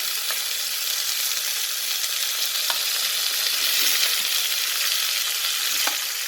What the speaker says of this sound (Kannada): ಆನಿಯನ್ ಎಲ್ಲವೂ ಈಗ ಫ್ರೈ ಮಾಡ್ಕೋಬೇಕು, ಚೆನ್ನಾಗಿ ಫ್ರೈ ಮಾಡ್ಕೋಬೇಕು